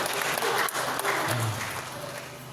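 A short burst of clapping from a room of people at a council budget session in Bamenda, Cameroon, steady and moderately loud, then tapering off slightly toward the end.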